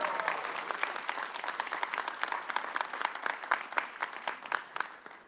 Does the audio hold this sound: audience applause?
yes